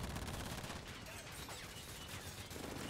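Rapid automatic gunfire in Call of Duty gameplay, dense and continuous bursts filling the whole stretch at low overall level, with no clear talk over it.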